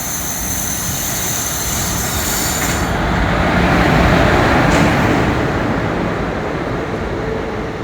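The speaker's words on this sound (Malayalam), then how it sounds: "നമ്മുടെ വണ്ടി ഏറനാട് എക്സ്പ്രസ് ഇതാ കണ്ണൂർ റെയിൽവേ പ്ലാറ്റ്ഫോമിലേക്ക് വന്നുകൊണ്ടിരിക്കുകയാണ്" An Eranad Express train pulls into a platform at Kannur railway station, a loud continuous rumble of rolling wheels that swells toward the middle and eases off, with no talk.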